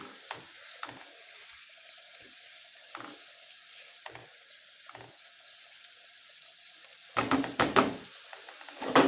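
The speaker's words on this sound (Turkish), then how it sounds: "Şimdi şöyle bir 3-4 dakika köftelerimizi güzelce soğanlarla birlikte kavuruyoruz." Meatballs frying together with onions in a pan, a soft, steady sizzle with periodic stirring clicks, growing louder and busier near the end as the pan is stirred.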